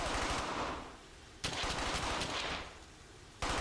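Bursts of automatic gunfire from the World War II shooter Brothers in Arms: Hell's Highway, with loud rapid volleys that break off briefly and resume, close and harsh.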